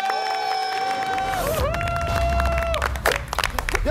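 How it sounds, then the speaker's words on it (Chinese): A studio audience on a cooking competition claps and cheers for a chef, the applause building over sustained music tones and growing busier toward the end. "在 Chef D 下来的时候，我们要给他很热烈的掌声"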